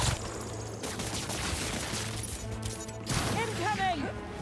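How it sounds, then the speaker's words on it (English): Rapid gunfire and crashing impacts from a fight in the video game Spider-Man 2, loud and continuous throughout, with game voices speaking over the action. "Open fire. No, no, open fire."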